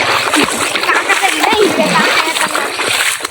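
A vehicle wades and splashes through deep water in a flooded farm field, loud, continuous churning and sloshing close by, with voices talking over it.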